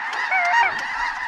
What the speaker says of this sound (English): all you can hear is just snow geese